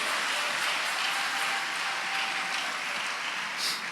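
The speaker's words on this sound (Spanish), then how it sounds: "Dele un aplauso a Dios." Sustained applause from a church congregation, many hands clapping in an even, continuous roar that eases slightly near the end, with no voices on top.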